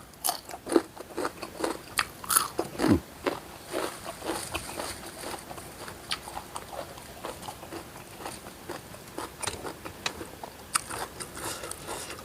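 Someone eating a spicy Thai salad of oyster mushrooms and shallots in fermented fish sauce, with crunchy bites and moist chewing repeating irregularly up close, fairly quiet and without talk.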